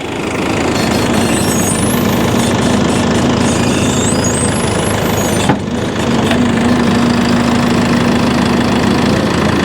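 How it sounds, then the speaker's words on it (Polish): A heavy forestry machine engine idles at low revs with a steady, loud mechanical rumble and knocking throb, a brief click midway, no talking. "Zobaczcie na jakich niskich obrotach pracuje ta maszyna."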